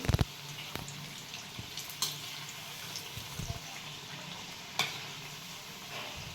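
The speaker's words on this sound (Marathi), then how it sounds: "छान तळून देत लगेच हलवायचे नाहीत थोडेसे क्रिस्पी होऊन झाले मग आपण पलटी मारायची" Cabbage bhaji fritters fry in hot oil with a steady, soft bubbling hiss, close by, broken by a few sharp clicks and small knocks; no voices are heard.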